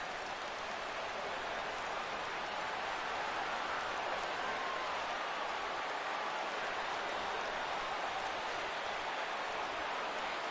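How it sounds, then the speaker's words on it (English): Rain falling steadily during a baseball video game, a continuous, even hiss of drops with no breaks, filling the whole stretch at a constant moderate level. "The rain, as we've mentioned, coming down fairly steadily here at game time."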